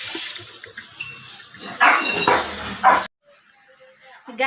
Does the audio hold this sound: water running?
yes